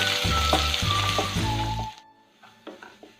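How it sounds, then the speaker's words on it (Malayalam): Chopped garlic and ginger sizzle loudly in hot oil for an egg Manchurian, with stirring clatter for about two seconds before the frying drops to a quiet simmer broken by a few faint taps. "ഇപ്പോൾ വെളുത്തുള്ളിയും ഇഞ്ചിയും ഒന്ന് നന്നായി വഴണ്ട് വന്നിട്ടുണ്ട്"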